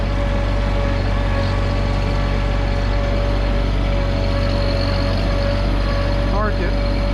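A Mahindra 1100 series sub-compact tractor driving with a steady low engine drone and constant hum, close and even in level throughout, with someone speaking over it.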